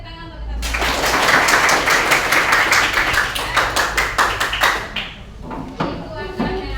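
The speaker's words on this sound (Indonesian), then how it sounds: "tepuk tangan untuk kita semua." A classroom of students claps together in dense, loud applause for about four seconds, tapering into scattered claps and a few voices near the end.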